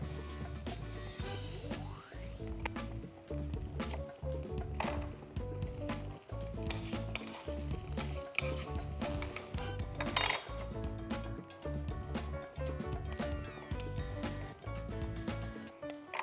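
Shallots toasting in a pan for mofongo, with steady sizzling and frequent clinks of utensils against cookware throughout, fairly loud and close with no talking.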